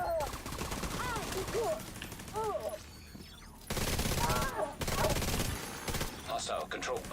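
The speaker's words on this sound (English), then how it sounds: "Turret." Bursts of automatic turret fire in the video game The Division, rapid rattling volleys in several clusters amid game effects, fairly quiet overall with brief gaps between them.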